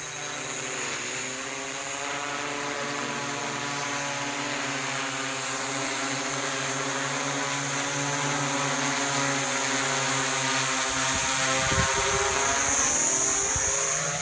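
A HighOne RC copter's propellers whir in a continuous loud drone, steady pitch throughout as it is brought down, with a brief thump near the end and no speech.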